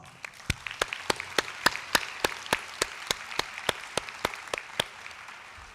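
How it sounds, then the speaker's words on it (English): Graduates at a convocation ceremony clap together in a steady, rhythmic round of applause, sharp individual claps standing out over a dense crowd wash, sustained for several seconds without talk. "give yourselves a well-deserved round of applause"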